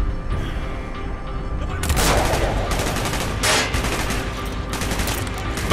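Heavy gunfire in the video game Call of Duty: Black Ops, with loud, close bursts of rapid automatic shots and booming blasts stacked over a dense battle din throughout.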